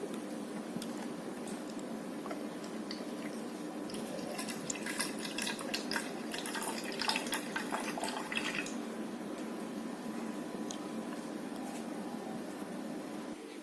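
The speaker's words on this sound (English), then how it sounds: "Now I want to measure the 100 ml of distilled water." Distilled water is poured into a measuring vessel in a lab, a faint trickling and splashing rising in the middle of the stretch over a steady low room hum.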